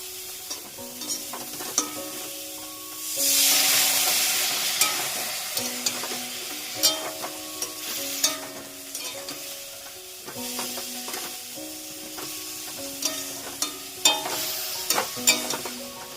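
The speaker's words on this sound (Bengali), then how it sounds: "এটা কষাতে হবে নুন হলুদ দিয়ে, সামান্য একটু জল দিলেও ভালো হয়।" Flat beans sauté with salt and turmeric in a pan, a soft continuous sizzle with sharp scraping stir strokes, and one louder hissing surge early on, over a tuneful background melody.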